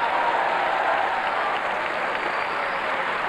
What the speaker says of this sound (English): Come on, clap and shout like you're happy about it.